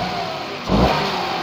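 A Daihatsu Ayla fitted with a Gran Max muffler idles steadily, then gives one short, quick rev that swells briefly and settles back to idle, heard close with no talking.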